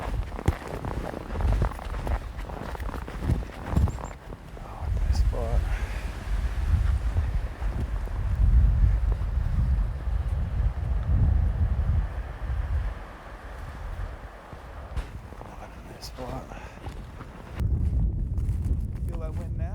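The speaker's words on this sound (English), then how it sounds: "Feel that wind now." Strong wind buffets the microphone at an exposed raised point on the Bay of Fundy at Sunsweep on Campobello in winter, a loud steady roar with low gusts throughout and brief footstep-like thumps near the start.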